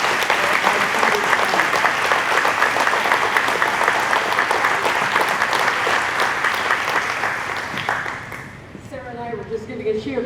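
An audience at a civic gathering in Harwich, Massachusetts, honoring legislators, breaks into sustained, dense applause for about eight seconds. The applause fades out, and a voice begins speaking at the end.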